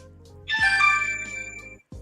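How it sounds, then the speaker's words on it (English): An indoor telephone rings once, a loud, bright electronic ringtone lasting just over a second, then cuts off to a low background hum before a brief second burst begins at the end. "I didn't even know that phone was on right there."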